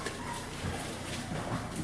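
Beagle puppies whimper and yip in a steady, busy chorus, their small cries overlapping close by with no pause across the moment.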